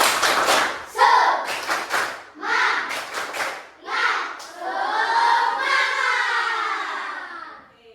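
A classroom of schoolchildren performs a rhythmic 'tepuk semangat' clapping chant, with bursts of clapped beats and chanted voices in a short patterned sequence, ending in a longer group shout led by the teacher.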